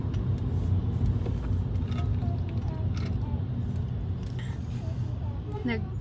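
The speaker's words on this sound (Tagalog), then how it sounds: "Grabe ang traffic." Heavy road traffic heard from inside a car on a road trip, a steady low engine and road rumble with faint passing-vehicle sounds, while people talk softly over it.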